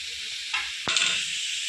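Ground spices such as cumin, chili and turmeric hit hot oil in a pan of frying pointed gourd, giving a loud, steady sizzle with a sharp burst of hiss midway, close and alone.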